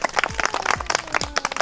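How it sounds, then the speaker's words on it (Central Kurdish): A small group of village children and adults clapping together in a short, uneven burst of hand claps, close by and without talk. "ئافرین یەک چەپڵە بۆ لین هەر بژی"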